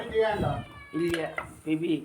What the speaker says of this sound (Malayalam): നമ്മുടെ പൂച്ച ഓളിയിട്ട് ഒടുങ്ങിയതാട്ടോ നല്ല സൗണ്ടിൽ